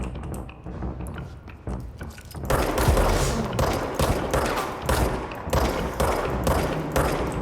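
Gunfire in the video game Control, a quiet opening then a rapid run of sharp, loud shots in bursts with brief gaps, close and without talk.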